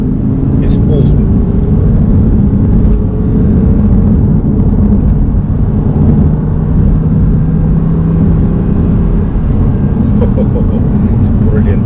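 Audi R8 driven in sports mode, a loud, close engine drone and road rumble sustained throughout, with a person talking over it.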